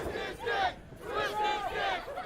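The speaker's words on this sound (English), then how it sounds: "This crowd is alive." A wrestling crowd in Pittsburgh roars and shouts in two loud swells, with a brief dip between them, a dense mass of voices cheering close around.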